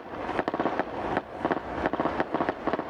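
Rapid bursts of sharp cracking gunshots at night, in clustered volleys over more than two minutes, moderately distant, with no voices.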